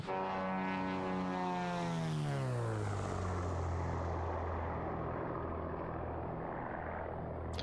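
The propeller engine of a Black Square Commander 114 in Microsoft Flight Simulator 2024 roars loudly and continuously, its pitch sweeping steadily downward as it passes, then settling into a low, rumbling drone.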